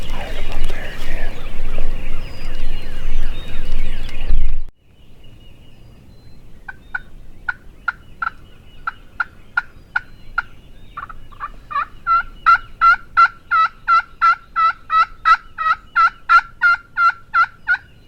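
Loud rustling and handling noise up close, then a distant wild turkey gobbles repeatedly amid sharp bird calls, growing into a rapid series of gobbles, during a turkey hunt in Texas.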